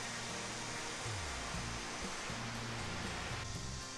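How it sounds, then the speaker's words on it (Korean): Cool mountain valley stream rushing steadily along a forest trail near a waterfall, a broad constant wash of flowing water with a low murmur beneath, fairly close and unbroken throughout. "여기서부터는 계곡의 시원한 물소리를 들으며 걷기 때문에 즐겁게 걸을 수 있어요"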